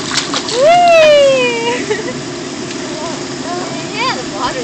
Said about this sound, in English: What a big splash.